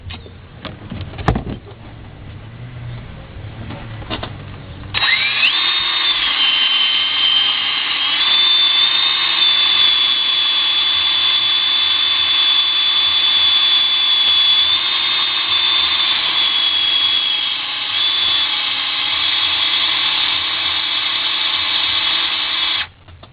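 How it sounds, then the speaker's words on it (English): Power drill with an oiled, high-grade bit boring into metal on a Nissan VG33E upper intake plenum, a loud, steady high-pitched whine that runs continuously for about eighteen seconds after a few brief clicks. "Now we always want to get some oil on the drill bit itself because it helps cool the cutting of the two metal."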